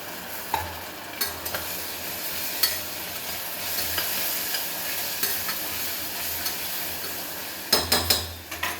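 Onion and ginger garlic paste fry in a pan with a continuous moderate sizzle. Regular scraping knocks from a stirring spoon punctuate it, with a quick cluster of clatters near the end.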